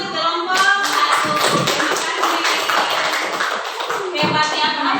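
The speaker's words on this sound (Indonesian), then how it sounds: "Oke, tepuk tangan untuk kelompok 1." A classroom of students claps for a group that has just presented, a close, dense burst of hand claps lasting several seconds with a little chatter mixed in.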